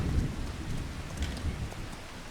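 Rain and thunder in Farming Simulator 25 form a constant hiss of falling rain over low, rolling rumbles, moderately loud and steady throughout with no speech.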